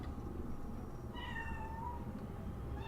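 A cat meows once in a drawn-out, wavering call near the middle, faint over a steady background hum.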